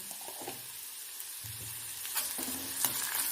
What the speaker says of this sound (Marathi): तर आपल्याला हे 2 ते 3 मिनिट कांदा थोडासा मऊ होऊपर्यंत परतून घ्यायचा आहे